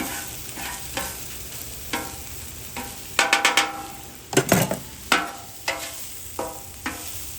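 Ground beef and chopped ingredients for a chopped cheese frying in a pan, with a spatula scraping and stirring in irregular bursts over a steady sizzle, close and fairly loud.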